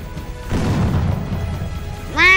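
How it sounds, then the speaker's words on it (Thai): A glass crash in the Roblox war game AI War, a broadband smash lasting under two seconds amid battle noise, followed by a brief rising tone. "กระจกแตก"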